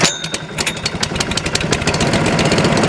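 A Dennis Razor lawn mower engine starting from cold and settling into a loud, close, rapid chugging run with an even pulsing rhythm throughout.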